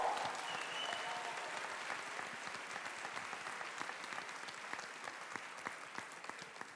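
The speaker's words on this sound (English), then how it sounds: "Give a round of applause, everyone." Continuous audience applause at the closing ceremony of the Erasmus Generation Meeting in Seville, 2024: a large hall of many hands clapping steadily and evenly throughout, moderately distant, with no speech over it.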